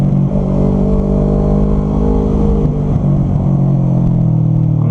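A Kawasaki Ninja 650 motorcycle on a ride with a Ninja 250 holds a loud, close engine drone whose pitch wavers and dips slightly, with wind rumble underneath.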